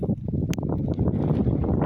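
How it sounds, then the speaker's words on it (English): Strong outdoor wind buffets the microphone in a continuous low, rumbling roar with uneven gusty surges. "It's very windy today, so you might have trouble hearing me."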